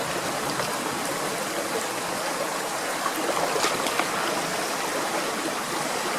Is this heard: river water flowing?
yes